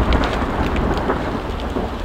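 A forest thunderstorm: loud, continuous rumbling thunder with steady heavy rain falling on surfaces, close and enveloping, and no voices.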